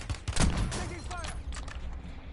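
Rapid gunfire bursts in the video game Call of Duty Warzone, loud and close at first then continuing in scattered shots under a voice speaking over radio-style chatter.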